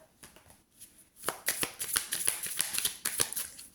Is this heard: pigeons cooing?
no